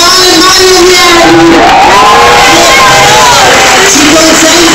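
Loud, saturated roar of a crowd cheering and whooping at a Muccassassina New Year's party in 2013, with shouting voices rising over dense babble the whole time.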